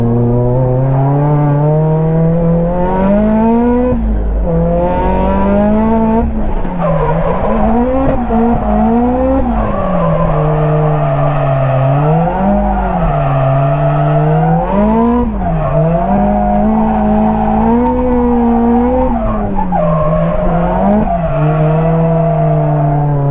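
Nissan S15 drift cars running on E85 slide around the Nikko circuit. Engines rev hard and swing up and down in pitch, and tires squeal continuously, loud and close.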